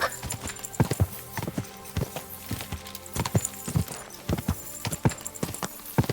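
Horse hooves clip-clop in quick irregular bursts with occasional neighing in the medieval game Kingdom Come: Deliverance II, loud and close over a busy background.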